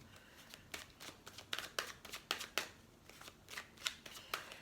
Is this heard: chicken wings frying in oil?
no